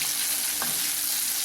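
Onions sizzle steadily in hot sesame oil for a spicy chutney, a constant bright crackle of frying with a brief stir midway, close and clear with no talk.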